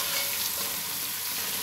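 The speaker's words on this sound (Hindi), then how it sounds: "ये मैं अच्छा सा फ्राई कर रही हूँ।" Chicken pieces frying in a pan, a dense, loud and steady sizzle with soft crackles, heard close up and uninterrupted for a short stretch with no talking.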